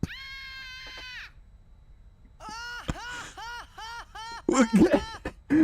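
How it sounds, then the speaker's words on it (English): A loud, strained scream from Final Fantasy X: one long sustained yell, then a quick run of rising-and-falling cries, ending in a burst of laughter-like shouting, all fairly close and prominent. "I forgot about the scream."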